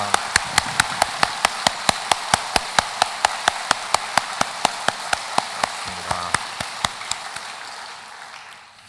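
A congregation in a church applauds in a steady, regular rhythm, with sharp unison claps evenly spaced about three per second for nearly nine seconds, loud and close, gradually fading toward the end.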